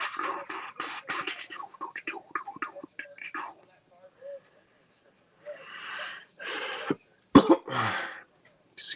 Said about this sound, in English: Excuse me. My coughing.